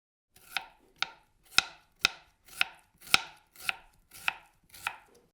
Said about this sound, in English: Someone's chopping food, maybe veggies for a nice meal.